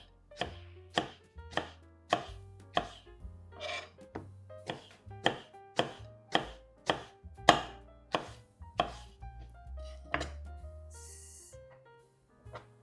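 A knife slices through Japanese eggplant on a cutting board in a steady run of about a dozen crisp, close chops, then slows to a few scattered cuts and a faint rustle at the end.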